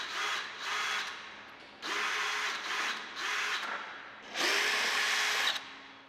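A power drill fitted with a 3/8-inch nut setter removes hardware from the bottom rail of a roll-up door, whirring in four separate close bursts, the last one longest, with short gaps between.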